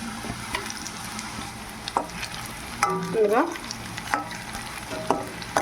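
Onions frying in a pan for a Rayalaseema mutton curry, a steady close sizzle broken by several sharp spatula scrapes and stirring clinks, with no talking.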